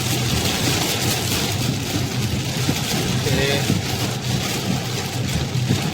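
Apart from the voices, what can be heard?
heavy rain storm while driving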